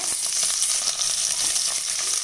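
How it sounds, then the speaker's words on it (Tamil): Steady, close sizzling and crackling of large onions frying in hot oil for veg biryani, a continuous bright hiss with small pops, no voices. "நம்ம சேர்த்துருக்க இந்த பெரிய வெங்காயம் நல்லா வதங்கி வரணுங்க"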